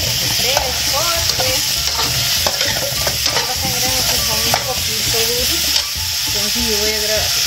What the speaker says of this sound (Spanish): Aquí sí voy a agregar los cangrejos frescos